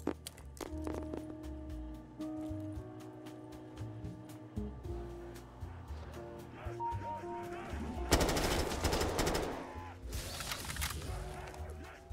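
AK assault rifle fire in a Left 4 Dead 2 zombie campaign, sharp repeated shots with a dense sustained burst toward the end, over game music and ambience.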